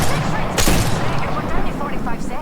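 Rapid gunfire from shooting in the video game Apex Legends, dense and loud throughout with a sharp burst near the start, under excited talk.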